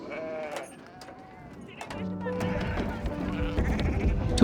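Sheep and lambs bleating near a wagon as the flock is brought to mountain pastures, with several overlapping calls rising into a loud, busy chorus toward the end.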